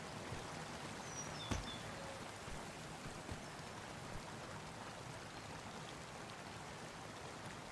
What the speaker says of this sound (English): Cross this stream